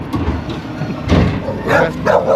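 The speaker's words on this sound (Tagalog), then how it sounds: "Ba't ko ba pinapagalitan yung mga aso? Eh, Yan yung trabaho nila magtahol ng mga ibang tao." Several dogs bark at garbage collectors outside a home in Edmonton, Alberta, with fairly close, loud bursts of barking and yips over a noisy background.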